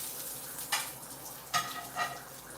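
Bacon frying in a cast iron pan under a bacon press, a soft steady sizzle with a few brief scraping clatters as the press shifts, close and moderately quiet.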